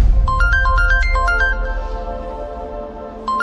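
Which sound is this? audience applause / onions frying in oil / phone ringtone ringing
phone ringtone ringing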